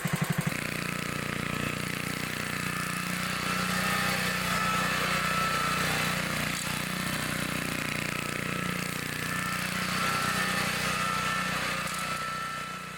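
A small carbureted engine runs steadily at a fast, even idle with a buzzy drone that stays loud and close and holds constant throughout, with no talking over it.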